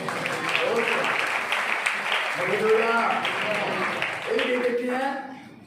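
A church congregation at a morning prayer service claps together, a dense, steady burst of many hands that fades toward the end, with a pastor's voice speaking over it.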